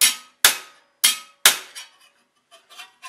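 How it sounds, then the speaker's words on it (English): Ball peen hammer striking sheet metal while shaping a segmentata greave: four sharp, ringing blows at a steady rhythm, each decaying quickly, then a few lighter taps, close and loud with no talking. "And now grab a ball peen hammer again."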